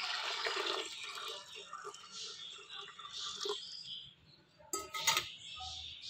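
About 1 kg of water pours and splashes into a pot of mutton kabab mixture in a steady stream, with a sharper burst of splashing near the end.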